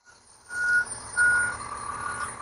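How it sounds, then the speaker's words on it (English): A garbage truck's reversing alarm beeps twice in a steady rhythm over a loud engine rumble, fairly near and without talk. "he's kind of nervous about this garbage truck coming through"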